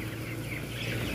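Broiler chickens cluck and murmur inside a closed poultry house, a dense, continuous flock chatter with a steady low hum of the house beneath it, and no talk.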